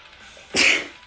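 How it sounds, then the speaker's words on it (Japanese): A woman lets out a single sharp sneeze close to the microphone, a sudden loud burst after a moment of quiet that fades quickly. "ちょっと待って、くしゃみ出そう"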